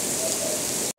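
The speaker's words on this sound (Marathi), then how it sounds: "आज दिवसभर पाऊस चालू आहे कंटिन्यू" Steady continuous rain falls, a dense even hiss of drops on surfaces that holds unchanged before cutting off abruptly near the end.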